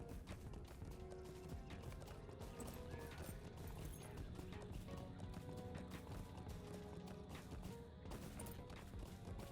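Horse hooves clip-clop continuously in The Lord of the Rings Online, the player riding a mount, buried in a dense, loud mix of game effects and background sound throughout.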